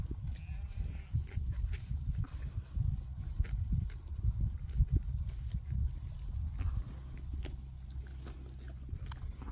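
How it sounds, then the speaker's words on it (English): Close-up sounds of sheep grazing: repeated tearing bites of grass and steady chewing, with a low rumble of wind or movement underneath. "See how close to the ground the sheep eat?"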